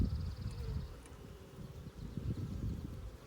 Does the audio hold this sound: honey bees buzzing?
yes